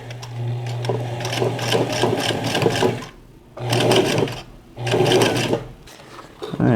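A sewing machine stitches a band onto a finger splint in three bursts of rapid, steady mechanical whirring, each separated by a short quiet pause, close and fairly loud.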